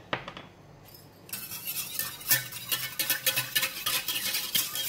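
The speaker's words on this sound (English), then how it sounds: "We're going to continue to stir it and until the liquid boils." A spoon scraping and clinking against a pot while peach syrup with agar-agar powder is stirred for a coconut and peach jelly, quiet at first, then a steady run of repeated metallic scrapes and clinks, close, with no talking.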